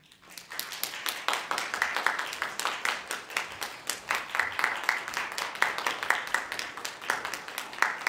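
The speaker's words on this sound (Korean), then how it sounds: "멤버 성혜빈 씨를 여러분의 큰 박수로 소개해 드리겠습니다" An audience at an evening humanities concert and lecture breaks into continuous applause, a dense crowd of claps building quickly and holding steady.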